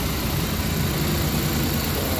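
A Suzuki DA64 engine idles steadily after a crankshaft knocking repair, a continuous close-up rumble with a low, even hum and no talk over it.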